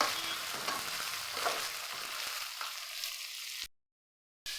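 Ground snake gourd sautéing in hot oil, a steady bright sizzle with occasional stirring scrapes, close and continuous, then cutting to silence near the end.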